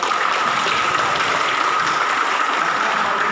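A dense, steady wash of applause from a crowd at a competency test ceremony for hotel and restaurant employees in Banten, loud and unbroken for the whole stretch without any voices.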